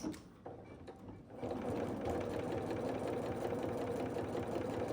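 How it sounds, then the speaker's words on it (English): A sewing machine runs steadily, stitching back over an existing quilt seam on a baby quilt; after a brief quieter start it settles into a loud, continuous mechanical hum with no talk. "All you got to do is just sew over what you had already sewn just a bit."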